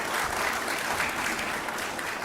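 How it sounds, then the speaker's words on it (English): Audience applause at a Caribbean media awards gala fills the room in a steady, dense wash of clapping, loud and continuous throughout with no break. "we want you to give another round of applause for the excellence of Dancing Africa"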